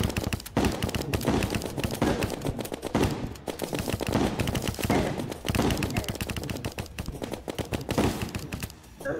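Rapid, continuous gunfire from a weapon in Terraria pours into the boss Skeletron, dense and loud with barely a pause, the bursts running together like a machine gun.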